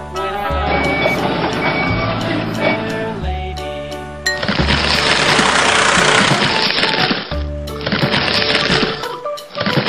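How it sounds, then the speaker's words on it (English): Cartoon snowplow truck with a rumbling engine and repeated reversing beeps as it backs up and lowers its plow, loud and close, with clanking mechanical bursts between the beeps. "lower the plow and let's plow some snow"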